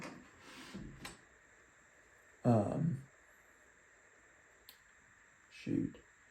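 The bolt of a Howa 1500 Mauser-type bolt-action rifle is lifted to unlock and cock it. Sharp metallic clicks and a short sliding clack come up close amid quiet pauses, with brief mechanical scrapes at the end.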